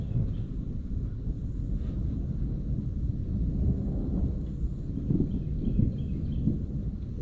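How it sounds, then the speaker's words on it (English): Thunderstorm at a riverside camp on the Suwannee River Wilderness Trail, with a continuous low rumble of thunder and gusting wind buffeting the microphone, no one speaking. "We got a storm coming up on us."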